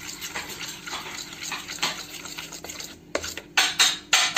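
Dhokla batter is whisked briskly in a bowl right after soda is added, a rhythmic run of wet beating strokes with light utensil clatter that grows louder and choppier toward the end.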